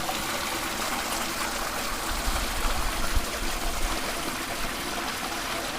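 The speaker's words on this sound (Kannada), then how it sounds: "ಆ ನೀರು ಇಲ್ಲಿ ಹರಿದು ಈ ತರ ಬರುತ್ತೆ ನೋಡಿ" Water of a small stream near the source of the Kali River at Diggi, Uttara Kannada, rushes and gurgles steadily and continuously nearby, a dense broadband flow with no speech.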